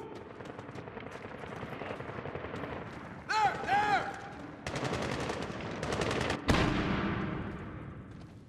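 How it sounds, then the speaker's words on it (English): AK rifle fire in the video game Medal of Honor (2010) rattles in dense bursts under a steady roar of battle, with sharp, loud volleys crackling through and fading out at the end. "That is an AK fire."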